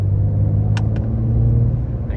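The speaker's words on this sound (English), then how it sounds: "oh, the car makes a pretty sweet sound" A Porsche 992 sports car engine rumbling steadily and loud up close, a deep continuous idle with a couple of faint short clicks over it.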